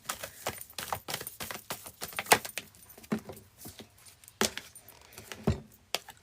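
Tarot cards shuffled by hand in quick bursts of crisp, clicking flicks and riffles, close and fairly loud, with no talking.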